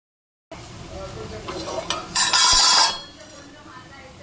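Fried okra sizzles gently in a pan while a metal spoon stirs and scrapes against it, with a few clinks and a louder burst of scraping and sizzle midway, a voice talking over it.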